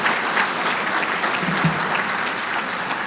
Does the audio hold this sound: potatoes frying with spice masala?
no